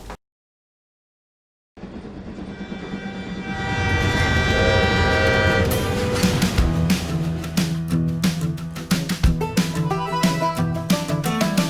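A train rumbles past with a sustained horn blast over the clatter, loud and close after a brief silence, building into steady rail noise with sharp clicks.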